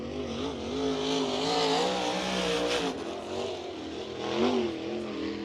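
Sprint car running a lap at Bloomington Speedway during a USAC National Sprint Car Series event, its engine screaming at high revs with rising and falling pitch as it works around the track, loud and continuous.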